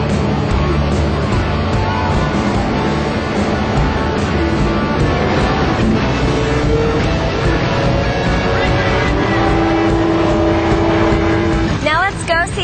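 Race cars run pace laps at a speedway to warm engines and tires, a continuous, loud roar of engines with passing whines rising and falling, while a voice talks over the noise.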